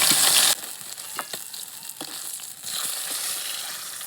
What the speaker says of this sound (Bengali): এভাবেই আমি সব মাছগুলো ভেজে নেবো